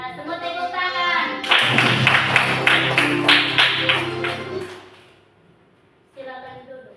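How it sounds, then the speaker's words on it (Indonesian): Children in a classroom clap together for about three seconds, loud and close, with rhythmic claps in the middle. Voices speak before and after the clapping. "Ya, semua tepuk tangan."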